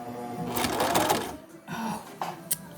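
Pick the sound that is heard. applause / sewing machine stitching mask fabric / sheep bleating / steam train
sewing machine stitching mask fabric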